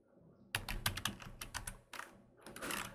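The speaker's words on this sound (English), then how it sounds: "just start typing it out and get it out of your head" Fingers typing on a computer keyboard: a silent start, then quick irregular bursts of crisp key clicks with a brief pause before a final flurry, close and fairly quiet.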